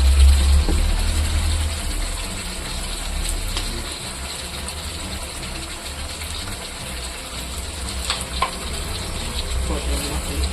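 Chicken liver frying in a kadai with pepper and cumin and no water added, giving a steady, close sizzle that runs unbroken throughout.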